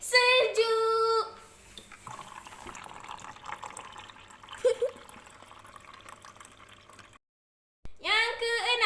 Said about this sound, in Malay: Yang kelima kita bubuh air sejuk.